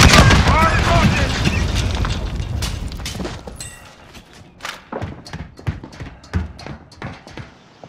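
A loud rocket launch and blast in the Call of Duty: Modern Warfare video game, with a dense roar fading into scattered booms and thuds and game voices talking over the battle.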